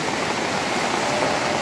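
Floodwater runs along Jalan Duta Indah Raya like a river, a steady broadband rushing and hissing of flowing water, loud and constant, with no voices.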